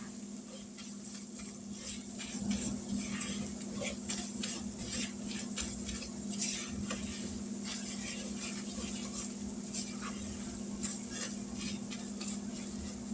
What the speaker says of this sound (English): We're going to cook this for just a minute to get that raw flour taste out of it.